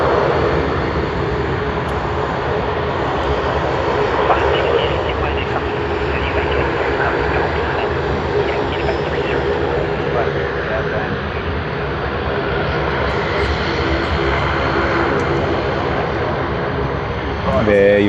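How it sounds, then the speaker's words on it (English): Singapore Airlines Airbus A380 jet departing Sydney Airport, its engines a loud, steady roar that holds for the whole stretch with no break. "There you are, Singapore Airlines A380 SQ231"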